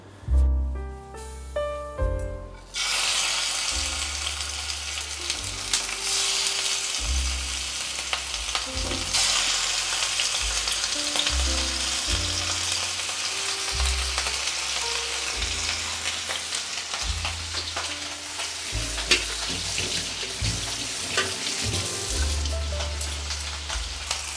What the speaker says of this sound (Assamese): তেলখিনি গৰম হ'লে টিকটো দি সানি থোৱা ইলিশ মাছ কেইটুকুৰা ভাজিম